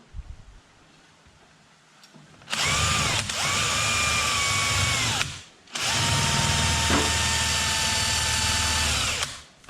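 A power drill drives 3.5-inch screws into a bamboo lumber rack, two loud sustained whirring bursts of about three seconds each with a brief pause between, alone without talk.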